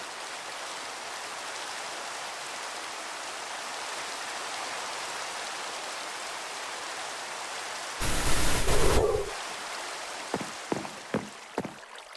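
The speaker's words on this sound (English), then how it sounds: "Yeah, it's raining." Steady rain falling in Minecraft, a constant broadband patter filling the scene throughout, briefly interrupted by a louder burst and a few sharp clicks near the end.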